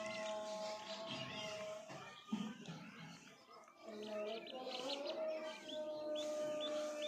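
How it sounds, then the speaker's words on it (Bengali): Quail chicks peep in high, thin, overlapping calls close by, a steady chorus that runs the whole time, with a voice faintly heard beneath. "আর এই যে এখানে আমার কোয়েল পাখির বাচ্চাগুলো।"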